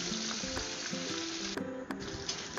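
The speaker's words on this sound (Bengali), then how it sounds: "দিয়ে দিলাম মাছগুলো ভাজতে কড়াইয়ে। এবার একটু আমি মাছগুলোকে ভেজে নিচ্ছি।" Two pieces of rohu fish fry in hot oil in a wok, giving a continuous hissing sizzle with a couple of sharp crackles, under steady background music.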